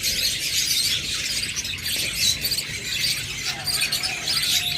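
Many budgerigars at a bird seller's chirp and chatter all at once, a continuous, busy mass of high tweets and squeaks close by.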